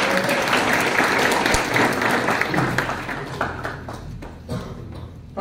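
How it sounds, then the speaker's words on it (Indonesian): Warm applause fills a Sunday church service at a theology college, a dense burst of many hands clapping close and loud, gradually thinning out over about five seconds. "Tepuk tangan bagi dia."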